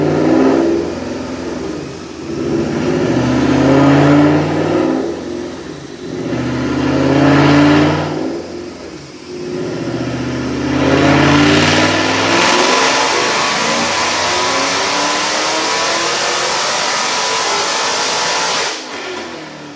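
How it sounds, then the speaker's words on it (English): A 2007 Mustang GT500 with a Whipple supercharger, Kooks long-tube headers and 93 octane fuel revs hard on a dyno: several loud, repeated engine blips, then a sustained full-throttle pull, loud and close. "Check out this dyno pull."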